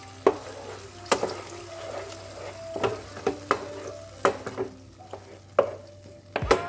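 A spoon scrapes and knocks in a pan as tomato puree is stirred into sautéing onions, with irregular clinks over a soft sizzle and no talk.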